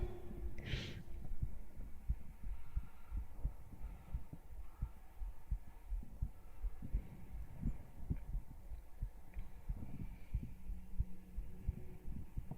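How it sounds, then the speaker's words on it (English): A person's own heartbeat picked up close by a microphone in a quiet room, soft muffled thumps repeating steadily in a low throbbing rhythm over a faint hum for the whole stretch. "I've become an expert at finding my own heartbeat."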